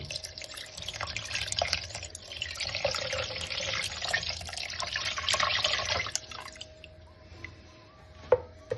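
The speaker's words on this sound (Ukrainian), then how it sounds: "Тепер заливаємо зверху холодною водичкою, так, щоб вона покрила буквально на 3-4 см зверху." Cold water pours from a tap over buckwheat in a pot, a steady, close splashing rush lasting about six seconds before cutting off, followed by a few scattered drips and clinks.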